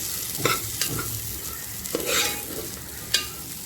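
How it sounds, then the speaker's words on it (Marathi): Washed field beans (pavta) being sautéed in a pan of spiced masala produce a close, sizzling fry, broken by repeated scraping stirs and a few sharp spatula knocks against the pan. No voices are heard. "स्वच्छ धुवून घेतलेला पावटा घालायचा आहे आणि पावटा आपल्याला मिनिटभर परतवून घ्यायचा आहे"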